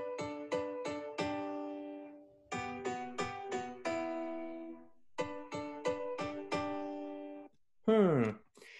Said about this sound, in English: This piano sounds like this.